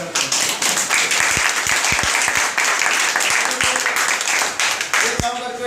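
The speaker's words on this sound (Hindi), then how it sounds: "ये पर्ल वाइन के लिए एक जोरदार ताली हो जाए" A seminar audience gives loud, energetic applause in a hall, dense clapping with sharp individual claps standing out, while voices speak over it.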